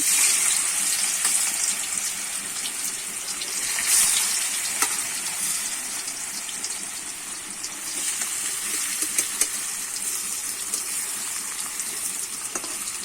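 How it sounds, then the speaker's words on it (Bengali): Banana flower and egg mixture frying in hot oil, a steady close sizzle and crackle that runs throughout with a few brief louder spits and pops. "তেলটা আমি ভালো করে গরম হয়ে গেছে, এবারে আমি আস্তে আস্তে ছেড়ে দেব।"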